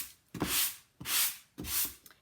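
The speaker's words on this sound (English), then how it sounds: "So I've got an old sanding block." Three long rasping strokes of an old sanding block rubbing across a wooden antique child's chair, evenly spaced with short pauses between, close and fairly loud.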